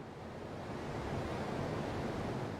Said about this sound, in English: That's the sound of the beach.